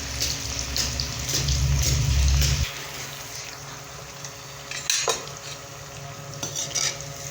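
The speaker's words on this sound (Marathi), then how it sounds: "मस्त मस्तपैकी अशी आता वडे गोल्डन ब्राऊन होईपर्यंत तळून घेऊत" Vadas made with pigeon pea pods deep-frying in oil until golden brown: a low rumbling bubble at first, then softer crackling with occasional clinks of a utensil against the pan, no talking.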